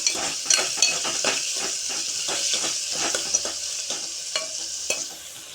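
Onions and garlic with salt frying in a pan for tomato charu, a steady close sizzle broken by repeated sharp scrapes and taps of a spoon stirring, with no voice.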